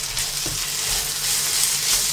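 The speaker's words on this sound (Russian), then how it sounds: "Перемешиваем и обжариваем примерно 2 минутки еще, чтобы морковка чуть-чуть размягчилась" Carrot and onion frying together in a pan give a steady, continuous sizzle with faint stirring scrapes, moderately loud and close, with no voices.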